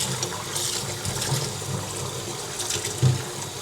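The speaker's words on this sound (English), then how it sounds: "Then clean the prawn with water." Prawns rinsed under a steadily running kitchen tap, water splashing continuously into a sink with a few brief louder splashes, no talking.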